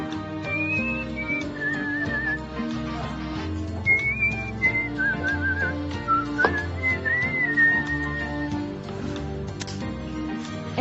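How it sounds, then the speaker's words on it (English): A man whistles a lively, wandering tune in clear bright notes, close and steady for about ten seconds with a faint hum of room sound beneath. "And I like to whistle"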